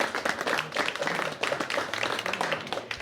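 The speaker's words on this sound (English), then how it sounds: "just give a big round of applause to everybody here today." A room of people gives a round of applause at a quiz bowl awards event, with dense, steady clapping heard up close for a few seconds.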